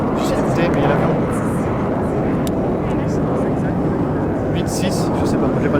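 An airplane passes overhead with a steady, broad drone that fills the background, while people talk over it close by.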